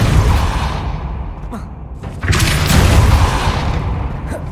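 In the video game Hogwarts Legacy, the Depulso spell is cast, a heavy booming burst with a rushing swell that lands midway through and rides over a low ambient rumble.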